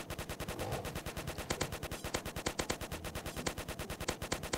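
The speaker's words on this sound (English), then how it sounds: "Let me shoot him." Rapid automatic gunfire in a Roblox zombie game, a fast, even stream of sharp shots repeating continuously throughout, fairly quiet overall.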